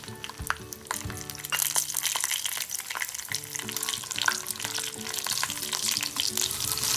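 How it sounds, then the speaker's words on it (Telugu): Green chilies crackle and sizzle in hot oil with mustard seeds and cumin, a close, busy frying sound with sharp pops and stirring scrapes throughout. "ఆయిల్లో పోపు దినుసులు ఆవాలు జీలకర్ర వేసాను మనం కట్ చేసుకున్న పచ్చిమిర్చి వేసుకున్నాను"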